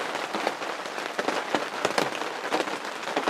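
Heavy rain pounds on a shelter roof during a bear hunting trip, a loud, continuous drumming hiss broken by sharp, irregular spatters close by. No distinct thunder stands out.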